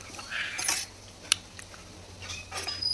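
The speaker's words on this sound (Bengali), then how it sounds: "চামচ দিয়ে খাচ্ছি" A spoon clinks and scrapes against a bowl while pomelo is eaten, a few light metallic taps and one sharp click over quiet room tone.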